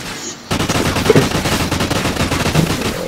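Rapid automatic gunfire from a Call of Duty match fills the clip in a dense, continuous burst of loud shots, starting after a brief quieter lead-in and running to the end without talk.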